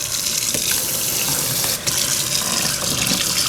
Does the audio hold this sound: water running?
yes